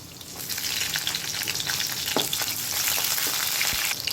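Green chillies, garlic and ginger fry in oil in a pan for a thick hotel-style chutney, giving a continuous close hiss and crackle with a few scrapes of stirring, and no talking.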